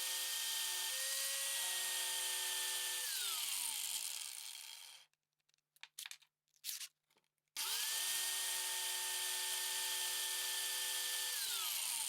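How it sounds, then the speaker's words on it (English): A power drill and an angle grinder cut and reshape steel bolts for a homemade pipe clamp: a loud, steady whine winds down, gives way to a few brief clatters, then spins back up to full speed. "And now let's modify these bolts by using the drill and an angle grinder."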